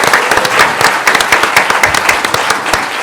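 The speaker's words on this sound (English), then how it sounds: "And so we should give them all a hand of applause." An audience at a law school evidence competition applauds steadily, dense sustained clapping filling the room at close range with no talk over it.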